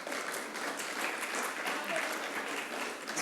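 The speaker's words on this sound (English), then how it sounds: "one more round of applause for our wonderful speakers." Audience applause for the speakers at a community event, steady dense clapping from a crowd throughout, fairly even in loudness.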